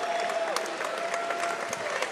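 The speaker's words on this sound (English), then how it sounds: "Let's give them a big round of applause." Sustained applause from a crowd after a basketball game that ended in overtime, steady dense clapping with scattered cheers, filling the whole stretch at a fairly even level.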